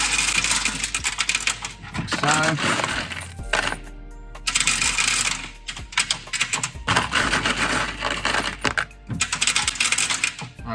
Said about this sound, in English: So the next step, I'll put in my handfuls of tech screws